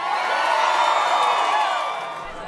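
Jubilant crowd in Tulsa cheering Kevin Stitt's Republican primary runoff victory for governor, a dense, sustained roar of cheers and whoops that stays loud before easing slightly at the end.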